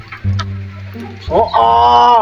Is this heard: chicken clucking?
yes